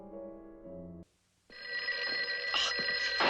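A telephone rings at night in Madame Medusa's pawn shop in an animated film scene, a brief musical phrase giving way to a loud, bright, continuous bell-like ring that builds and rattles toward the end, with no talking.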